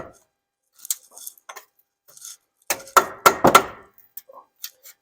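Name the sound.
hammering on putty knife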